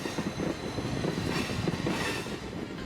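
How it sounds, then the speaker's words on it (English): A vintage-style excursion train rolls along the rails with a steady, close rumble, rhythmic wheel clatter and faint squeal, heard alone without voices. "We leave on our train"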